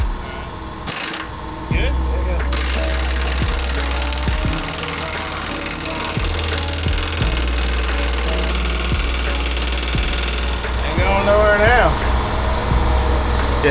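A turbocharged junkyard 5.3 V8 engine fires up and runs with a loud, rough, throbbing idle and mechanical clatter, while people talk over it.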